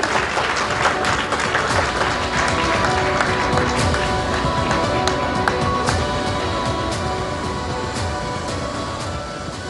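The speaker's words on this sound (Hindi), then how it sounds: "जोरदार तालियों के साथ आप जरूर स्वागत करें आयुष्मान खुराना का" A large audience breaks into loud, sustained applause to welcome actor Ayushmann Khurrana at a News18 India Chaupal event. Dense, steady clapping fills the whole stretch with no voices over it.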